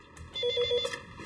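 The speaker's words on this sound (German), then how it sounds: "Hubert steckt das Briefchen weg, nimmt sein Smartphone und tippt darauf." After a smartphone is dialed, a telephone ringback tone sounds once, a clear, steady electronic ring heard close and alone.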